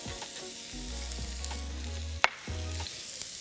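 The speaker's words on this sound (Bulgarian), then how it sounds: "в загрят тиган слагаме малко мазнина. Домаваме си наситно нарязан лук." Finely chopped onion fries in a little fat in a hot pan, giving a steady, close crackling sizzle with a brief scrape or clink partway through.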